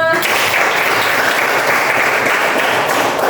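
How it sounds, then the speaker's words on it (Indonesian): Steady applause from a classroom full of students, clapping continuously at an even level for a few seconds with no talking. "Tepuk tangan untuk semua."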